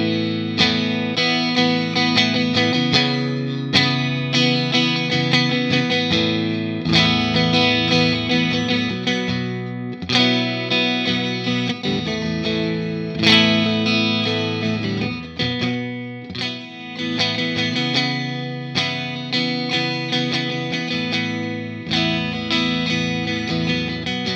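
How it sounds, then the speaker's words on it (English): A late-1979 Fender hardtail Stratocaster electric guitar rings through effects with distortion and chorus, its strummed chords and notes playing continuously and prominently with no talk. "So in terms of sound, you know, this is a late 79 Strat."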